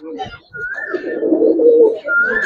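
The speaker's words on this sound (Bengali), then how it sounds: "একদম পুরান জাতের কবুতর ভাই" Old-breed Giribaz breeding pigeons coo in a low, continuous rolling murmur over roughly two seconds, close by, with brief higher tonal calls at the start and end.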